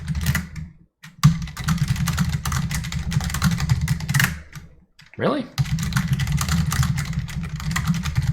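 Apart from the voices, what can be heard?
typing on a computer keyboard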